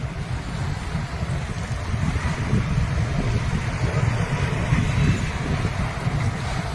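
Surging tsunami water and waves at the port in Kiamba, Sarangani Province, Philippines, a steady low rushing roar with wind buffeting the microphone, continuous and close throughout.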